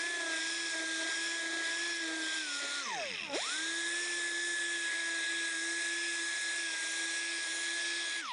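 A power sander with a 2-inch 80-grit foam pad works on a wooden slapper, giving a high, steady whine that dips sharply for a moment when it slows and then spins back up.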